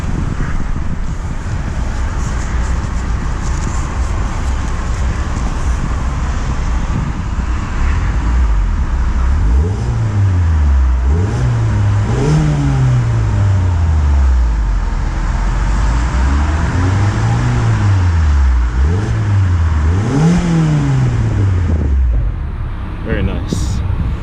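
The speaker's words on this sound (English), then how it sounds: "Alright, let's go give it a couple of revs." A 2020 Mazda MX-5 Miata convertible engine idles steadily, then is revved five or six times in rising and falling sweeps. A constant broadband wash of wind or ambient noise runs underneath.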